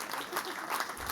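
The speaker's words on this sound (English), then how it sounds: "give him a round of applause." Applause from an audience at a tech conference talk, a steady dense wash of clapping filling the whole moment with no pauses.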